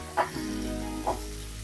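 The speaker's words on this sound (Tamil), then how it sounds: "ஸ்டவ் ஃபுல் ஃப்ளேம்ல வச்சு நல்லா வதக்கிக்கலாம்." Ingredients for a chicken kuzhambu sauté in a pan over full flame, a steady close sizzle with a couple of brief louder bursts as they are stirred.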